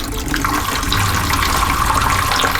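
Water pours steadily into a bucket inside a camper van, with drain use unavailable while sealant dries; a continuous, loud rushing splash fills the whole stretch without speech.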